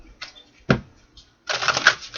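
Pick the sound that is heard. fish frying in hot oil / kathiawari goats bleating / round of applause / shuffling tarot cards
shuffling tarot cards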